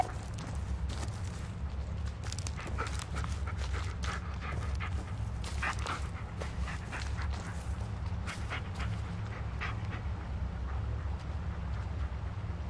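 Dog in the horror video game Blair Witch panting quietly and steadily, with faint footsteps and small whimpers over a low ambient drone, distant and soft, no speech.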